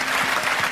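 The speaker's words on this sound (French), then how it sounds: "Je pense qu'on peut applaudir Claude Alexis." Brief burst of audience applause at an evening show about the strange and unusual, a full, steady wash of clapping with no break.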